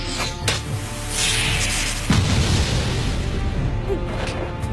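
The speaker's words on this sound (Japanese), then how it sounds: "爆発でもダメかよ。" An explosive tag detonating in a Boruto anime fight, with a rushing roar building up and then a heavy blast and rumbling crash that fades slowly, loud and close.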